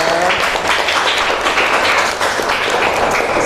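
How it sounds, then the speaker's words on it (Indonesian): A school class applauds together, continuous close, fairly loud clapping filling the moment at an even level throughout. "tepuk tangan untuk kita semuanya"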